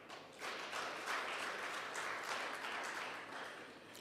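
Applause from a room of conference participants at a national skills and vocational training event: sustained, dense clapping at steady moderate loudness for about four seconds, with no voices over it.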